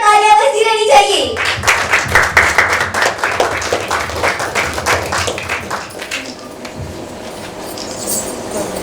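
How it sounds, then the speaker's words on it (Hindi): An audience claps loudly at a dance competition prize ceremony, with dense sharp hand claps filling the first six seconds before thinning out and fading, while a voice speaks faintly underneath. "जोरदार तालियां बजती रहनी चाहिए।"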